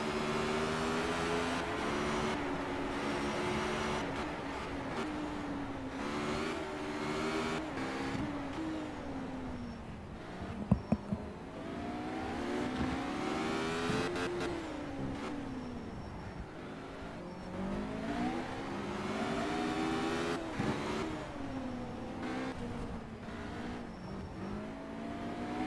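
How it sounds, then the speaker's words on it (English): Race cars in the Simraceway racing video game rev and shift repeatedly, their engine notes climbing and dropping in sweeping waves with a brief sharp clack midway, loud and continuous without talk. "listen to these cars rev up"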